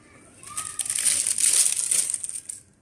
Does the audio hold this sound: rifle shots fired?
no